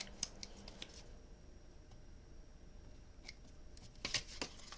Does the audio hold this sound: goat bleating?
no